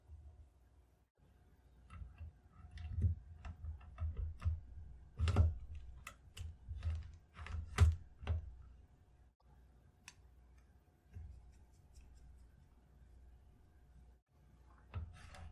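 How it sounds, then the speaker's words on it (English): A Kar 71 rifle bolt is reinstalled, making quiet metallic clicks, ticks and sliding rubs in scattered bursts, with a few sharper snaps in the middle and near silence toward the end. "To test that, I'll reinstall the bolt."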